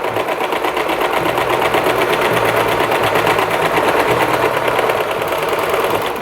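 Serger overlock machine stitching the edges of a cloth burp cloth runs at close range with a steady, fast mechanical chatter and rhythmic thumping, loud and unbroken for the whole stretch.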